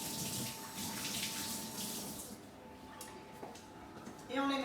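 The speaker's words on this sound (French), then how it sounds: "Je me lave les mains." Hands washed under a running kitchen tap, steady splashing water for a few seconds that thins out, with a voice speaking at the very end.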